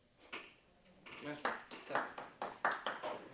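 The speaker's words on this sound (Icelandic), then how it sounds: "Bara klapp og læti, sko." Scattered hand claps and light applause from a small group, a handful of sharp irregular bursts at low level, with voices talking underneath.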